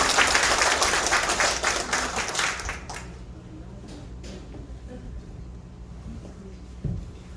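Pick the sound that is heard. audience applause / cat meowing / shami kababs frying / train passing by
audience applause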